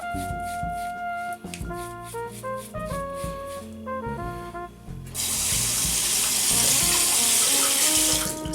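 Tap water runs loudly over a Philips OneBlade shaver being rinsed, a steady close hiss and splash that takes over after a stretch of music.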